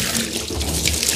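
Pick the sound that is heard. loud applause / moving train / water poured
water poured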